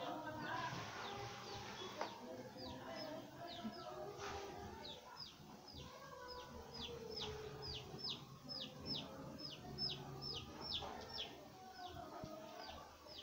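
Baby chicks peep over and over in quick, high, thin chirps, fairly close, with faint background murmur and rustling beneath.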